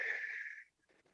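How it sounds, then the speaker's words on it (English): A single forceful exhalation during a core workout, a breathy hiss for about half a second that cuts off into near silence with faint rustling. "Breathe out."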